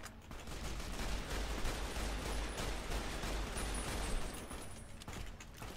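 Survivalist rifle fire in the video game Fallout: New Vegas, a dense, loud stretch of rapid gunfire and blasts running continuously with no voices.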